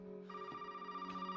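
A telephone rings in the Resident Evil 7 video game, a steady electronic bell tone sounding twice in close succession, loud and clear with no talk over it.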